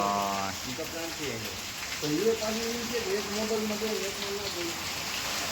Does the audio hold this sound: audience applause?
no